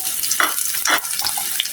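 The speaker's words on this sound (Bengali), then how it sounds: "একটা ফ্রাই প্যান বসিয়ে দিয়েছি, দিয়েছি পরিমাপ মতো তেল। এখন আমি পেঁয়াজগুলি ভেজে নিব।" Onions frying in measured oil in a frying pan, a bright sizzle that swells in short bursts as the pieces are stirred, close and fairly loud with no talk over it.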